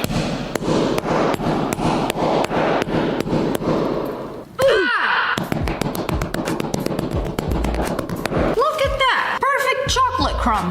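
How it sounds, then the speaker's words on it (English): Repeated sharp hammer blows pound chocolate bars inside a small plastic baggie, a fast run of loud, close impacts that pauses briefly, then resumes in irregular bursts while voices and background sounds play over it. "take chocolate bars, put it in a little baggie, find the closest thing to a hammer, and beat it."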